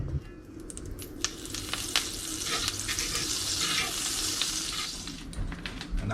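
Redfish sizzles and crackles steadily in olive oil in a skillet, a close, continuous frying hiss with scattered sharp pops throughout.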